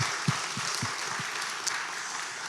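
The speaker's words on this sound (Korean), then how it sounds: "우리 하나님께 우리 박수로 영광 올리겠습니다" A church congregation claps together in steady, loud applause, with a few distinct near claps at the start before settling into an even sustained wash.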